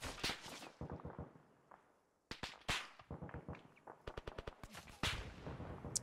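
Video game machine gun firing a full box in a co-op military shooter, loud bursts of rapid automatic fire with sharp cracks, a brief pause, then more staccato volleys and single shots close by, no talking.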